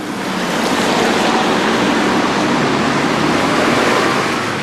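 Heavy rain pours down over an empty outdoor market, a loud, steady hiss of broadband noise that stays even throughout with no voices.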